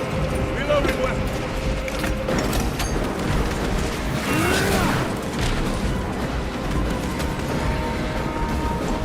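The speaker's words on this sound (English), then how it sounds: "Reloading weapon!" In the CHAD vs Aliens video game, a weapon is reloaded with clicking, ratcheting mechanical sounds over a dense backdrop of game noise and effects, with a voice speaking at times.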